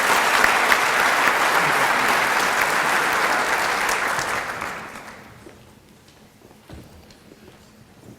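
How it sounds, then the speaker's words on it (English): Audience applause fills an awards night hall, a dense steady clapping that holds loud for about five seconds before fading away into near quiet. "a round of applause for outstanding student in screen printing"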